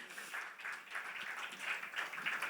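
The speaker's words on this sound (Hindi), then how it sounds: "तो जोरदार तालियां हो जाए इनके लिए प्लीज।" Faint, steady applause from an audience at a TV serial launch event, a soft patter of many hands heard from a distance.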